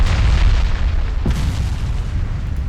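Warship guns firing in the naval video game Ultimate Admiral Dreadnoughts, one loud deep boom in the middle of a continuous heavy low rumble, with no voices.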